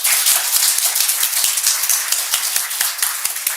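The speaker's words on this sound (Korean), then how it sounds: "맞다고 생각하면 박수 한번 보내주십시오" Steady, fairly loud applause from an audience at a political New Year gathering, many hands clapping in a dense, continuous patter with no voices over it.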